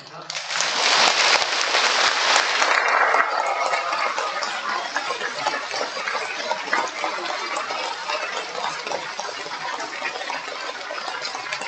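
A crowd at a church lecture by an archbishop bursts into loud, dense applause that stays steady for several seconds, then thins slightly while clapping continues.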